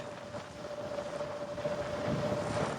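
Wind buffets the microphone while riding a tuned Segway ZT3 Pro electric scooter up a steep incline, a steady rushing roar that grows slightly louder, with a faint thin whine running underneath.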